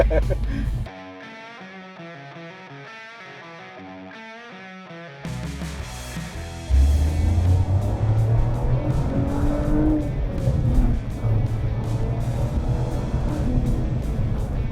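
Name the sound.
Toyota GRMN Yaris engine revving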